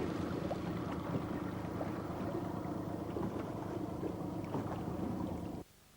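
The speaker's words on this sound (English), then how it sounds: "If you want a really quiet engine, get a Honda 4-stroke." Honda four-stroke outboard engine running on a boat, a steady low hum with wind noise over it, continuous and fairly quiet, cutting off near the end.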